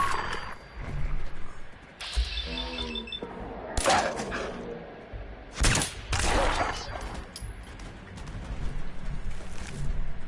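A pistol in Fallout 4 fires a few loud, sharp shots, spaced apart and mixed with clicks and clatter of handling.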